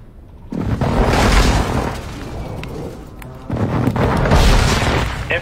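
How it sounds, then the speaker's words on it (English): Two heavy, booming airstrike explosions in a military shooter video game, each a sudden loud blast followed by a rolling rumble that fades before the next impact. "Hostile airstrike incoming."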